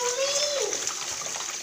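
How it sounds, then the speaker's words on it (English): Basmati rice swished and rinsed in a pot of water, giving close wet sloshing and splashing throughout, with a brief voice-like tone near the start. "Some people rinse it until the water is clear, but I just rinse it for like 3 times."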